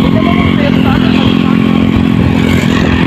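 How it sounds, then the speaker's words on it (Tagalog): A motorcycle engine drones loud and close throughout, passing during a town fiesta bicycle race, with a steady mid-pitched rumble and some clatter and faint voices underneath. "May motor dito eh."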